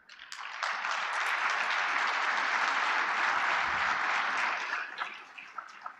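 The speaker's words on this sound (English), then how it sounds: "I do want a round of applause for all the ones that are working" An audience at a sustainability conference applauds in a sustained, dense burst of clapping that holds steady for several seconds before tapering off into scattered claps.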